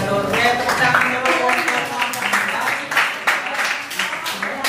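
A classroom group claps together after a presentation, a steady patter of many hands lasting several seconds, mixed with voices talking over it.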